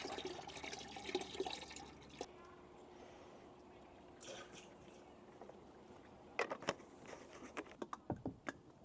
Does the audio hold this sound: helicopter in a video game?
no